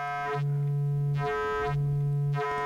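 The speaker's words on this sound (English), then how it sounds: "Got our triangle wave" A steady triangle-wave tone from a Befaco Pony VCO synthesizer oscillator drones with a soft buzzy edge, with a sweeping filter or pitch movement repeating about every second and a half.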